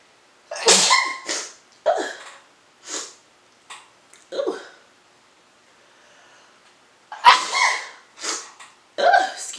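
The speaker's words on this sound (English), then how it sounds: "apparently talking about it makes me sneeze" A series of sharp sneezes and sniffs in close succession, separated by brief quiet gaps, up close with no talking.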